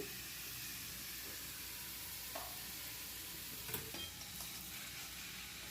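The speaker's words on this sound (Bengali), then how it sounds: "ইঁচড় আর মশলা ভালো করে কষিয়ে নিচ্ছি" Boiled green jackfruit fried with spices in a pan for an echor chingri dish, producing a faint, steady hiss and sizzle with a few soft stirring scrapes and no talking.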